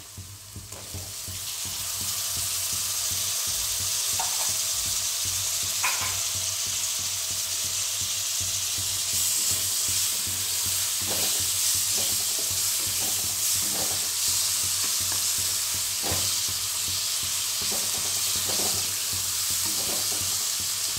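Tomatoes fry in a pan for pav bhaji, giving a loud, steady sizzle close up. Occasional scraping knocks of stirring break through it, and no one speaks.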